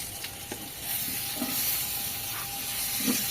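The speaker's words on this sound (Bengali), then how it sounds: "একটু ভেজে নিচ্ছি" Small, partly boiled potatoes fry in a pan with a continuous close sizzle and hiss, broken by a few soft stirring knocks, and no one speaks.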